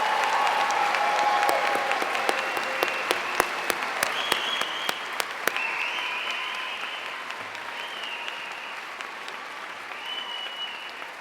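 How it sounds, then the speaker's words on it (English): A large audience at a university afternoon convocation applauds the graduating class, giving a steady, sustained round of clapping with a few sharp close claps standing out. "please join me for one last rousing round of applause for our 2019 graduates"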